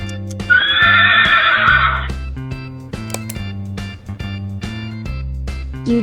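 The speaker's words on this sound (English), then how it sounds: "Where is the horse?" A horse gives a loud, shrill whinny lasting about a second and a half at the start, then a playful children's tune with steady plucked notes carries on alone.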